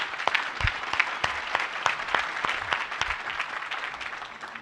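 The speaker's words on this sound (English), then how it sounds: "let's give a preemptive round of applause to our next Ignite speakers" An audience at the DevOpsDays DC 2016 conference applauds its Ignite speakers with steady, moderately dense clapping that fills the room, with no talk over it.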